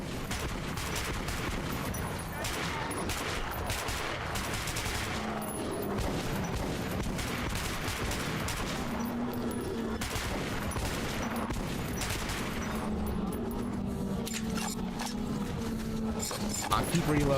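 Rapid bursts of gunfire from Metro 2033 Redux, dense repeated volleys running almost continuously throughout, loud and close, with someone talking over parts of it.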